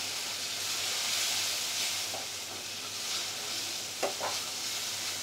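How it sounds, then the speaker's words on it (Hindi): Dry spices, cumin and coriander powder, frying in a pan with a steady gentle sizzle and hiss, plus a couple of quick utensil taps near the end, no voices. "सभी ड्राई मसाले डालने के बाद हम कुछ देर भूनेंगे।"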